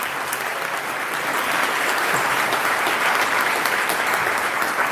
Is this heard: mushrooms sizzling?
no